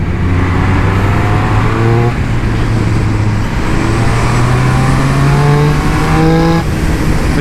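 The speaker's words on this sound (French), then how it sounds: "C'est l'échappement d'origine, et honnêtement, il fait le taf. Catalyseur, échappement d'origine, mais ça va, ça chante." Triumph Speed Triple 1200 RS motorcycle on its stock catalysed exhaust, a loud close engine note rising steadily through the gears with brief shift breaks, alone without talk.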